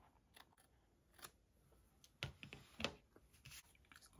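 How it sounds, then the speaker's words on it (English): Scissors snip through fabric around the outline of a shoe in a few quiet, scattered cuts close by, with no one talking. "You want to cut just right along and leave about maybe a quarter to a half an inch."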